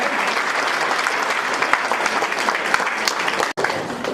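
Dense, sustained applause from a gathered crowd at a school women's assembly as a garland is presented, steady throughout with a brief dropout near the end.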